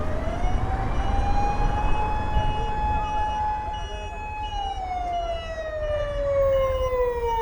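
An ambulance siren wails steadily, its tone sliding slowly up and down as the vehicle sits stuck in a traffic jam in Bangladesh, loud and close over a low rumble of idling traffic.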